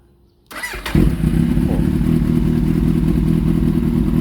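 A 2013 Kawasaki Z800 motorcycle cranks briefly, catches with a loud burst, then settles into a steady, close, throbbing idle that runs evenly to the end.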